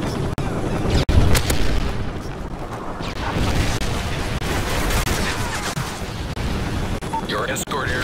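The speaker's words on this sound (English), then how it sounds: "Friendly Predator missile inbound." Predator missile strike explosions in the Call of Duty MW3 video game on the Gulch map: loud, dense booms and rumbling blasts fill the whole stretch, with game voice callouts mixed in.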